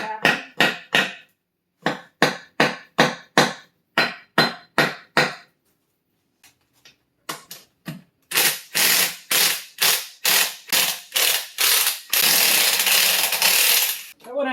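A hand ratchet works on the tail shaft housing of a Torqueflite 727 transmission, giving close, loud sharp clicks in quick rapid bursts with pauses, then a faster continuous clicking stretch.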